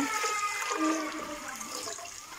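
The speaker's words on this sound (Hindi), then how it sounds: "अब मैं इसमें पानी डाल रही हूँ। खुला पानी आपने इसमें डाल देना है।" Water poured into a cooking pot holding about half a kilo of mutton for yakhni, a steady splashing gush that runs continuously and close up for a couple of seconds with no talk.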